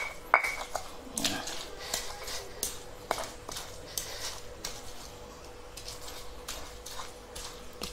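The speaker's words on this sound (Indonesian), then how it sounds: "Ini batu gilingnya. Kita giling, nggak lama ya gilingnya ya, memang harus sabar." Spices with shallots and garlic being ground on a stone grinding slab (batu giling) for nasi goreng, giving repeated scraping and knocking strokes in a steady, uneven rhythm, close and moderately quiet.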